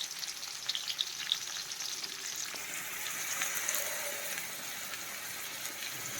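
Chopped onion frying in hot oil for a Marathi tempering in a home kitchen, a soft continuous sizzle and crackle with light stirring scrapes, quiet and steady throughout, with no talk over it.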